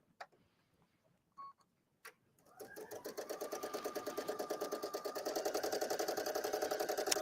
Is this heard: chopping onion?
no